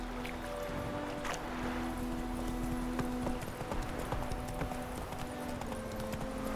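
Horse Roach trotting in The Witcher 3 on the Nintendo Switch 2, steady rhythmic hoof clip-clops close by over a continuous game ambience with a low hum, no speech.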